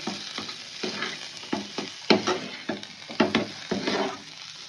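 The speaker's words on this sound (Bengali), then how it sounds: "এবার এটার মধ্যে দিয়ে দেবো কোচানো ধনেপাতাটা। আবারও 2 মিনিটের জন্য একটু নেড়ে চেড়ে নেবো।" Potatoes and chopped coriander leaves stirred and fried in a pan, with a steady sizzle and repeated scraping strokes of a spatula at a fairly even rhythm, close up and with no talk.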